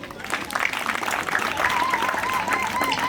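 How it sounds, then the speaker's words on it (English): Steady applause from a crowd at a South Sudan Independence Day celebration in Bungoma fills the whole stretch, dense and even, with a faint tonal whistle or murmur running underneath. "So clap for yourself."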